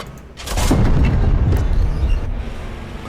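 A tank fires a high-explosive shell in the WW2 tank game Panzer Elite, a loud booming blast with a long rumbling tail of battlefield noise.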